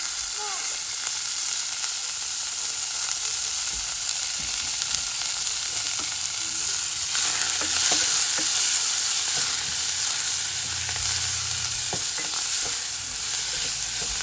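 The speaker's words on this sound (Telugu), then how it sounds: "ఇది కొంచెం ఫ్రై అవ్వనిద్దాం మూత పెట్టి" Black-eyed pea curry with onions, green chillies and coriander frying in a pan, a loud steady sizzle with occasional stirring clicks, close and continuous with no talk.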